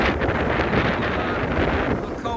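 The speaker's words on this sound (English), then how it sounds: "this wind is just insane." Strong gusts batter the microphone at a Maui beach where windsurfers ride, a loud, unbroken roar of wind with no letup.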